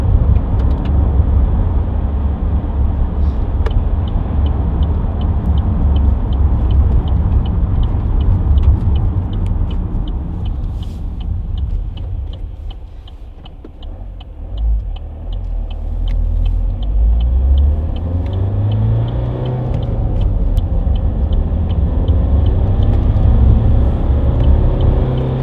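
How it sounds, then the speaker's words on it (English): A 2014 Vauxhall Astra 2.0 CDTi ecoFLEX diesel hatchback cruises along a dual carriageway, heard from inside the cabin. Steady engine drone and road rumble fill the clip, dipping briefly midway before the engine note rises and builds again. "Just taking you up the dual carriageway now."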